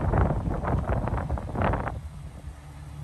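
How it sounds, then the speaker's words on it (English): Wind buffets an outdoor microphone in gusty, rumbling bursts that crackle and thump for the first two seconds, then settle into a softer steady low rush. "Sorry about the wind."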